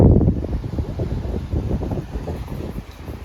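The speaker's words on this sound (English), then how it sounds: "I'd say it's windy outside." Strong wind just outside a door in Corpus Christi, Texas, roars and buffets the microphone in a continuous low rumble with gusty surges, loudest at the start.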